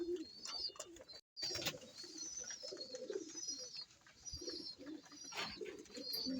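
Several pigeons coo in a breeding loft, low murmuring calls rising and falling over soft chirps, clatter and a brief drop-out.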